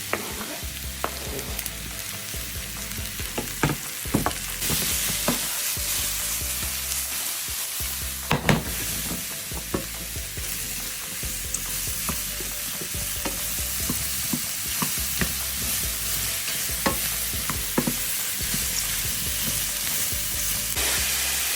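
Mushrooms, garlic and onion frying in a pan with a little oil, a steady close sizzle broken by frequent scraping stirs and clacks of a utensil, running continuously without talk.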